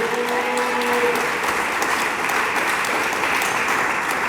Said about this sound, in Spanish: Dele palmas al Dios de la gloria.